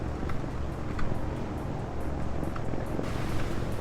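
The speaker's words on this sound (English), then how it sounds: "See how I skip on the water like that?" A boat built in the Trailmakers video game skims and skips across the water, giving a steady, loud rush of spray and engine-like roar with a few brief splashy bumps throughout.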